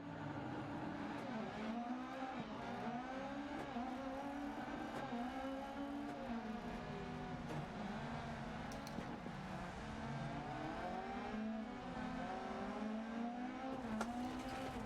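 A rally car's engine in Dirt Rally 2.0, played in VR, revs and drones continuously with wavering pitch as it accelerates and shifts, sounding close and steady throughout.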